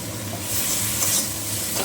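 Cumin seeds hitting hot oil in a pan while cooking pabda fish give a steady, close sizzle with a bright crackling hiss, and light stirring runs under it.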